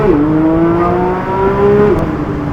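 A Porsche GT3 engine drones loudly and close from inside the car while driving, holding a steady pitch before a quick drop as the revs change.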